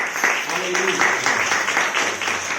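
A church congregation clapping in worship, a dense run of rhythmic handclaps at a steady beat, fairly close, mixed with crowd voices.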